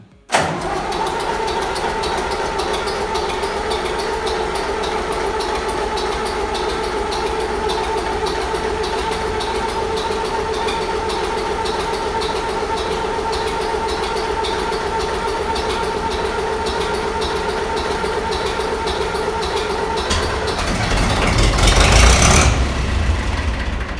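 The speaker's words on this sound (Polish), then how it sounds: "Odpalamy ciągnik." A Ursus C-360 diesel tractor engine, just fitted with replaced injector nozzles, turns over and settles into a steady, loud idle that runs on, swelling briefly near the end.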